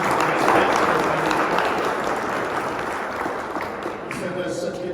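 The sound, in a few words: banquet audience applause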